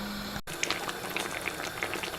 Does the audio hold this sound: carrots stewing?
yes